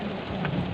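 Rain falling steadily at an outdoor lion safari park in Cambridge, a dense, even hiss of drops drumming on surfaces, continuous and fairly close.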